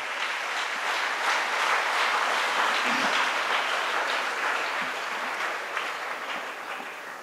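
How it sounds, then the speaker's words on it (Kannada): Audience applause from a crowd at a Kannada talk event, a steady, dense wash of clapping that holds for about seven seconds before easing slightly at the end. "ಅವರಿಗೊಂದು ಚಪ್ಪಾಳೆ ಇರಲಿ"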